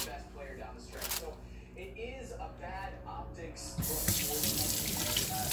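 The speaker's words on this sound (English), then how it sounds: "wash my hands." A kitchen water tap running while hands are washed, a steady close hiss of flowing water that swells louder near the end, with a person talking over the start.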